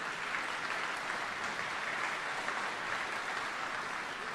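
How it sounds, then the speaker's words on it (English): Audience applauding steadily at a military change of command ceremony, a dense, continuous wash of many hands clapping with no pauses, moderately loud throughout. "okay, you can clap for him, absolutely."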